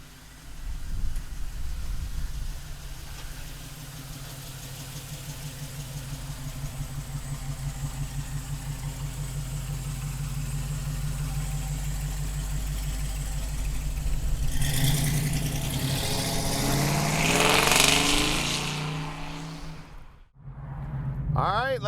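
A black 1969 Chevrolet Camaro restomod with an LS1 V8 runs steadily with a low, continuous engine drone that swells near the end, then briefly drops away before picking up again; a voice speaks over it.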